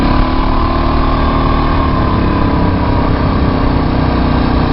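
A quad driven by thumb throttle across sand dunes at Mui Ne, Vietnam, its small high-revving engine droning loud and steady, close to the rider with no break.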